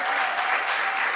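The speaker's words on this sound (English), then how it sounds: "give her a round of applause." Brief, steady applause from an audience at a political party meeting in a hall, heard for about a second.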